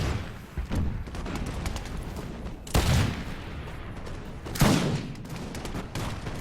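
Musket infantry volleys in Empire: Total War with the Imperial Splendour mod, a battle between Russia and Spanish cavalry, crackle as rippling fusillades, with several sharp bursts over a steady distant battle din.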